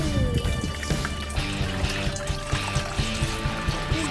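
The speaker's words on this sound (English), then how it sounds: "we have to add some water." Water pours steadily into a sprayer bottle holding dish soap for a homemade wasp spray, a continuous close trickle and splash with faint rhythmic knocks underneath.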